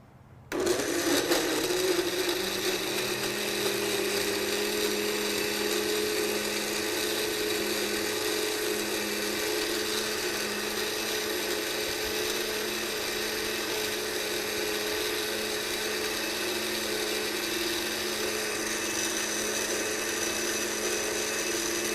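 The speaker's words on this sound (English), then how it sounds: "So just get that all in your blender, and then" An electric blender runs steadily on a honey smoothie, a loud, continuous motor whir with a constant pitch, heard alone from start to finish.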